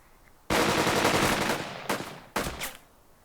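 Automatic gunfire from soldiers in the WWII tactics game Burden of Command: a long sustained burst of rapid shots, then two shorter bursts, loud and close, with no talk.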